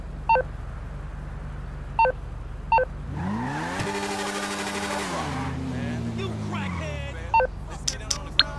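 In Grand Theft Auto V, a phone gives three evenly spaced electronic beeps, then a car engine revs and whines over traffic noise, and a few more beeps and clicks follow near the end.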